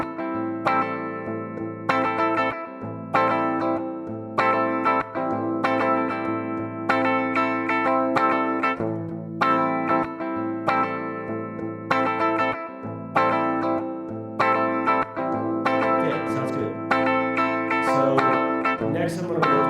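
A looped one-chord guitar strum run through effects like distortion, chorus and echo, repeating rhythmic strummed bursts in a steady pattern, moderately loud and alone.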